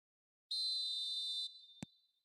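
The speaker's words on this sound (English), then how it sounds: "And there goes the final whistle." A referee's final whistle in the eFootball 2025 video game, a single clean shrill blast lasting about a second, followed by a short click, in otherwise silent surroundings.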